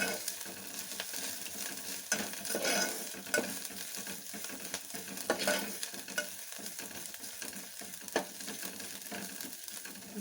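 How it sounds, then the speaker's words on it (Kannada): Turmeric powder fries in oil in a pan for pepper rasam, a steady close sizzle broken by scraping stirs of a spoon against the pan, with no voices. "ಸ್ವಲ್ಪ ಅರಿಶಿನ ಪುಡಿ ಹಾಕ್ಕೊಳ್ತಾ ಇದ್ದೀನಿ. ಚೆನ್ನಾಗಿ ಫ್ರೈ ಮಾಡಿ."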